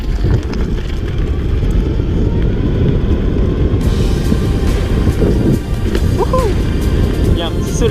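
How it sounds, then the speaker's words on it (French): Strong wind buffets the microphone on a ride around a mountain lake, a constant loud low rumble throughout with faint motor hum and brief small squeaks near the end. "Il y a pas mal de vent aujourd'hui, j'espère que ça bloquera pas trop le son."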